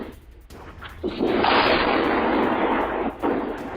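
Iranian missile strike explosions in Dimona, Israel, caught on a CCTV recording: a sudden, sustained roaring blast with dense rumble that holds for a couple of seconds and then swells again near the end.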